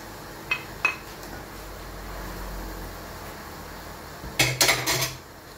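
Spinach being stirred with other vegetables in a cooking pan, a few sharp clinks of a utensil against the pan early on, then a louder cluster of scraping metallic knocks near the end over a quiet background.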